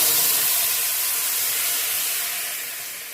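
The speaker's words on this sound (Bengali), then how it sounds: "এবার আমি জল ঢেলে দেবো।" Water poured into a hot pan of fried rice for a pulao sets off a loud, steady sizzling hiss that fills the clip and fades slightly at the end, with no talking.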